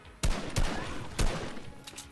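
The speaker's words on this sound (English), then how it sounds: "Hear shots somewhere." Gunfire in the Fortnite video game sounds as a few sharp shots a moment apart, with brief reverberation between them.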